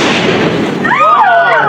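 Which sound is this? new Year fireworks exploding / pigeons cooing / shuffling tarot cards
new Year fireworks exploding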